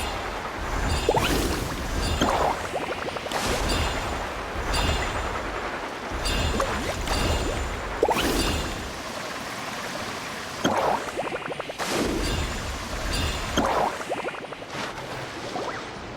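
A Sharky surfboard carves across water in Genshin Impact, with repeated rushing splashes and swooshes arriving every couple of seconds, loud and close.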